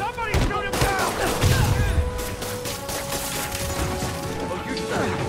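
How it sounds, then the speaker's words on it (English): Rapid gunfire from enemy shooters in the Spider-Man PS4 video game, with crackling bursts and sharp impacts over a mechanical hum, mixed with brief shouted voices near the start, fairly loud throughout. "Gotta take those shooters out. Somebody shoot him down!"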